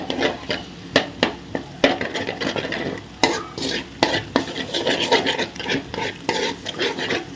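Four eggs stirred in a hot, salted pan on full flame, with quick scraping and tapping strokes over a constant sizzle, close and fairly loud throughout.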